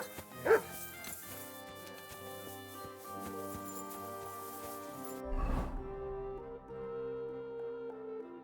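A dog in the medieval video game Kingdom Come: Deliverance II gives a sharp bark, then yips and whimpers, and barks again about five seconds later. Both sounds are close and carry over a soft game music bed.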